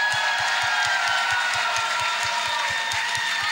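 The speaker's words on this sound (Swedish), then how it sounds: "En till applåd medan hon lämnar scenen" An audience keeps clapping at Stockholm Pride as a singer walks off the stage. The applause is a continuous, even crowd roar, with a steady low thumping pulse running beneath it.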